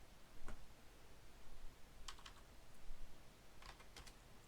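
Keys on a computer keyboard are typed during an Arduino C++ lesson, heard as a few faint, scattered clicks in small clusters over a low background hiss.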